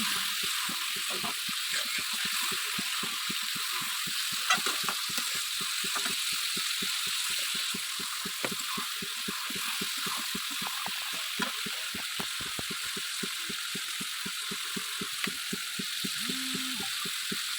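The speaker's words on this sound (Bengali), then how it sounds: "লবণ দিয়ে আবারও ভেজে নিচ্ছি" Chicken and potatoes sizzle and crackle steadily in a hot pan, a continuous hiss with fine pops, with no voices.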